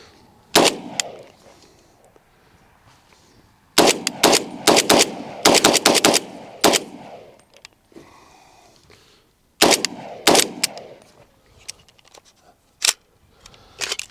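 A PSA Jakl rifle fires .300 BLK supersonic rounds in loud, sharp bursts of rapid shots, close and separated by brief pauses, with several clusters across the stretch.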